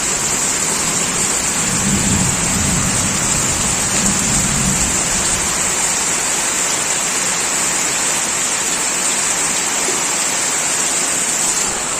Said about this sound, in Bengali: ভাই এটা বৃষ্টি ভাই মারাত্মক বৃষ্টি